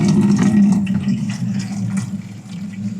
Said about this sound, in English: What I'm going to do is fill it up with some water